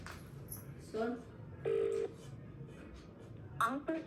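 A phone call being placed and cut off, heard as short electronic telephone tones and a brief steady beep in bursts over a quiet room, with faint voices in the background.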